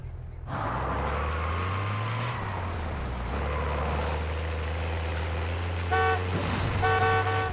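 A vehicle is driven in the video game Warzone, with a steady low engine drone that shifts pitch, a short hiss at the start and a few honking horn blasts near the end.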